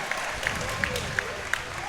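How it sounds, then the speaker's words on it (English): Crowd applause at an MMA fight night, a steady wash of clapping and crowd noise with a bright repeated beep or chirp recurring at regular intervals. "Give them a loud round of applause."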